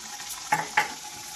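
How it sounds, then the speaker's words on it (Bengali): Luchi, puffed flatbread, frying in hot oil in a home kitchen: a soft steady sizzle with two short, sharper bursts of bubbling close by, as if dough hits or is turned in the oil. "এখন আমি লুচি ভাজছি"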